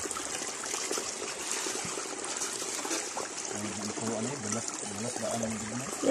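Water trickles steadily in a small stream, close and continuous, with a voice speaking briefly over it partway through.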